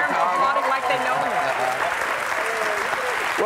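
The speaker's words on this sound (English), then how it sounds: "You hear me applauding like they know me." Applause from a television studio audience greeting the host, loud, continuous clapping lasting throughout with no talk over it.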